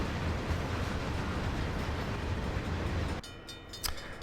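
A CSX heavy-haul freight train in Train Sim World pulls in with a steady, loud rumble of rolling wagons that drops away near the end, leaving squeaks and light clanks.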